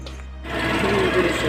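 A Motorstar Easyride 150 motorcycle engine, just fitted with a new fanbelt, fires up after a brief quiet moment and settles into a steady, close, rattling idle.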